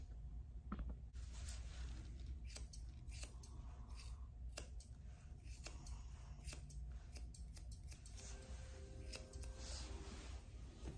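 Scissors trimming the ear hair of a matted Shih Tzu during grooming, a steady series of close, crisp snips repeating irregularly over a quiet background.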